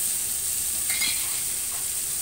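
Vegetables with salt and turmeric sizzle as they are stirred and fried in a pan, a close, steady hiss with a brief scrape of the spoon midway.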